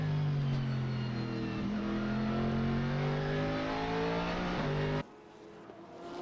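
Ferrari and Corvette GT race cars at Okayama circuit scream close by with loud engine notes climbing steadily through the gears, then the sound drops away abruptly near the end.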